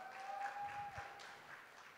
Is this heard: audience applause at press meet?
yes